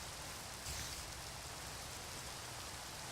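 Steady rain in Minecraft, a continuous dense hiss of falling drops, even and unbroken with no voices.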